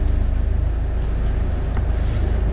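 Leopard 45 catamaran engine run in reverse while anchoring, a steady low rumble mixed with wind buffeting the microphone and water washing around the hull, continuous throughout.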